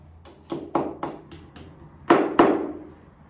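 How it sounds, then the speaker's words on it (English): Seven sharp taps of a hammer driving a wall plug into a wall, a quick uneven series of light knocks followed by two louder strikes, close by with no talking. "Tap this in."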